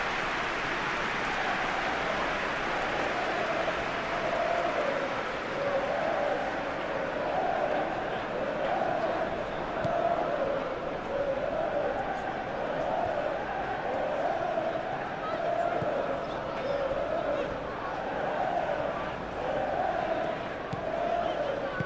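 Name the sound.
stadium crowd in PES 21 football video game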